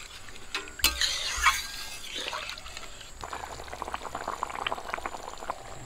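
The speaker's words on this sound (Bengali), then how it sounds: "ঝোলটা ফুটে গেছে" Fish curry gravy of potatoes, spices and water bubbles in a pan, a soft, close simmer with gentle popping and a few louder splashes and clinks early on.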